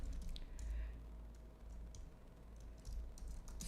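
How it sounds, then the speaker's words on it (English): Quiet tapping on a computer keyboard, a few light clicks spread across the stretch against a low background hum, with no one speaking. "Oh, that typing wasn't bad."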